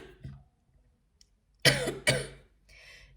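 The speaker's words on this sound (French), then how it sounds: "je tousse encore un tout petit peu" A woman gives two sharp, close coughs in quick succession after a short throat sound, in an otherwise quiet indoor room.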